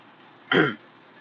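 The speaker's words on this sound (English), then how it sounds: "I'm coughing here" A single short cough or throat-clear, close and fairly loud, against quiet background hiss.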